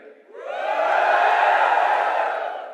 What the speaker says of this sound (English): Mi fans, give me a cheer.